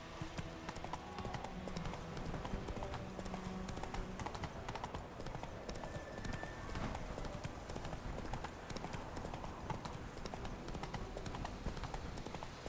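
The horse Roach gallops through White Orchard in The Witcher 3. Rapid clip-clop hoofbeats run steadily under a dense game soundscape, with faint speech now and then.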